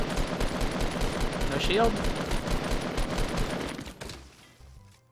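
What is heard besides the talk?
gunfire in the video game Fortnite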